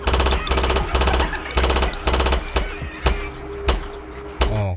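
Cannon-fire sound effect played on a Filipino radio show: a rapid run of about eight loud, close booming blasts in quick rhythm, with no talking over them.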